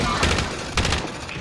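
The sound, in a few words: hostile gunfire in a video game (Warzone)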